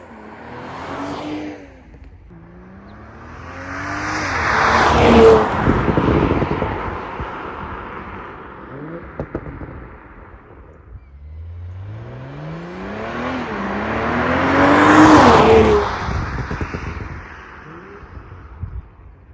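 A 2020 Toyota Supra with a PCW modified exhaust makes two drive-by passes, each one building from a distant engine note into a loud revving roar as it goes past, then fading away.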